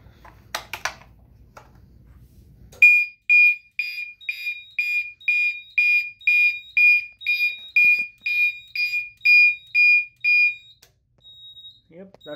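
A Simplex 4001 fire alarm system in alarm from a BG-12 pull station, sounding a loud, steady series of about a dozen evenly spaced electronic tone pulses, after a brief stretch of talk and low rumble.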